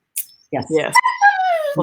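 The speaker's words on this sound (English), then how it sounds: "That's my dog in the back." A dog whines and yelps in the background of a quiet room, a rising then falling whimpering cry lasting about a second, heard alongside someone speaking.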